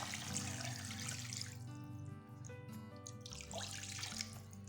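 About 2.5 glasses of water pour steadily into a metal pan for chicken vegetable soup, a continuous splashing gush with shifting tone, fairly quiet and close, no voices.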